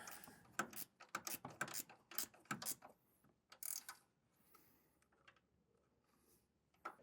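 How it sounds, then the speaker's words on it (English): A wrench ratchets a bolt tight while Air Lift LoadLifter 5000 Ultimate air helper springs go onto a 2025 vehicle: close, crisp clicking runs in rapid bursts, then fades to quieter, sparse ticks. "we can come back with a wrench and tighten that down"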